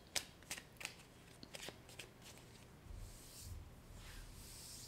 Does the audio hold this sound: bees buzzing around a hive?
no